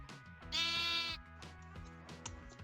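Sheep bleating in the Minecraft video game, one loud, harmonic bleat standing out clearly over a busy background of game music and sounds.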